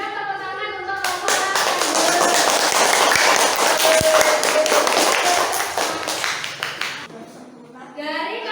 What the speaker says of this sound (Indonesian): Yuk, kita berikan tepuk tangan untuk kelompok